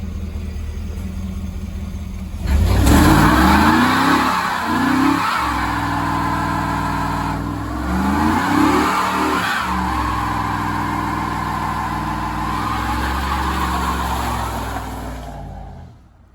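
A 1996 Camaro Z28 on new wheels and tires roars into a burnout, its engine revving hard in repeated surges with screeching tire squeal, loud and close, then dropping away abruptly at the end.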